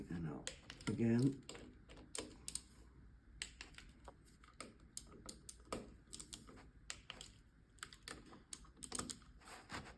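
A DQ200 dual-clutch transmission's TCU mechatronic unit clicks in a series of sharp, irregular, quiet clicks, with a faint voice now and then.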